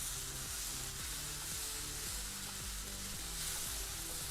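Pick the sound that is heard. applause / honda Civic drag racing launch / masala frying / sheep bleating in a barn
masala frying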